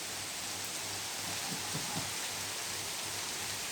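Steady rain pours down in a dense, even hiss, with a few faint quacks from geese rising briefly in the middle.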